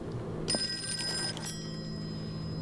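Old-fashioned telephone bell rings out in a Call of Cthulhu video game scene, a bright metallic trill starting abruptly and sustaining with a brief renewed ring over a low steady background hum.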